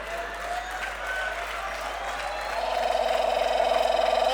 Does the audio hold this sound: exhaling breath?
no